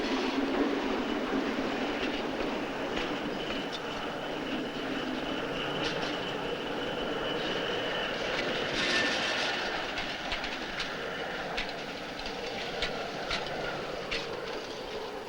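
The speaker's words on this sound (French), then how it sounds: "un locotracteur termine le débranchement d'un train et se dirige vers le faisceau de" A shunting locomotive moves freight wagons through a rail yard after breaking up a train, giving a steady rolling rumble with clickety-clack wheel beats and faint squeals, continuous and fairly close, with no voices.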